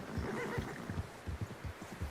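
A horse in the video game Red Dead Redemption 2 gives short snorting, nickering calls in a steady rhythm, close and moderately loud, with no talk over them.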